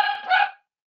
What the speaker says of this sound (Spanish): Saludos al perrito.